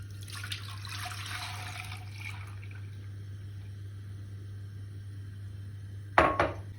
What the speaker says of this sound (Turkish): Üzerine 1 litre süt ilave ediyorum.